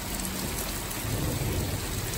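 Steady rain pouring down over a backyard during a stormy spell, a dense even hiss with no talk, constant from start to finish.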